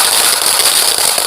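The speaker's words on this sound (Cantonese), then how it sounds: "北京市內大街小巷煙花爆竹聲此起彼落" Firecrackers and fireworks burst nonstop through Beijing streets on Lunar New Year's Eve, a dense, loud wall of crackling and popping with no pauses.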